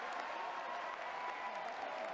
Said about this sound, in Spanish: Evo Morales, entre gritos de apoyo y abucheos, insiste en que fue víctima de un golpe de la derecha